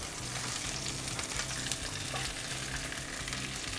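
Zucchini slices sizzle steadily in a hot pan just after being flipped, a dense, even crackle of frying that stays loud and continuous throughout with no voices.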